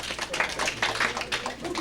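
Group applause in a workshop room, dense overlapping hand claps at steady moderate loudness, with a faint voice mixed in.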